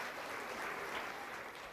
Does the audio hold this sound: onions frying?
no